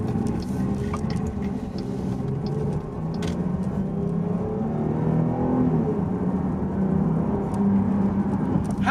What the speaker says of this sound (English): let me give you guys a little acceleration here